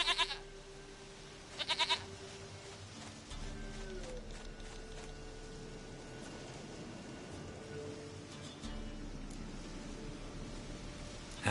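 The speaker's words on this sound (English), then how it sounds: "Goat of mine, dearest, sweetest goat." A goat bleats in the video game The Witcher, with two short nasal bleats standing out over a low wind-like ambient bed, one at the opening and another a couple of seconds later.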